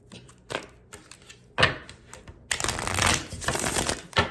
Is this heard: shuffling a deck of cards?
yes